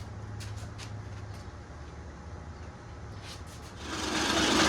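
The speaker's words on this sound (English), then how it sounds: "let me load it back in the lathe, which is not an easy process, and we'll spin it up at least one more time" A lathe spins a 70-year-old reel mower blade, giving a steady mechanical whir with a low hum that swells noticeably louder toward the end.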